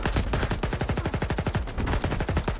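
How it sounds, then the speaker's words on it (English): Automatic weapon fire in the video game STALKER 2 rattles in a rapid, continuous burst of loud, close shots with a steady rhythm and no talk. "I'm just shooting the cover."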